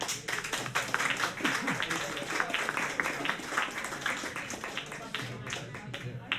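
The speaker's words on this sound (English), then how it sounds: "Big round of applause for Jack again" A live audience at a comedy show claps for a performer, with a busy, continuous patter of hand claps lasting several seconds while people talk over it.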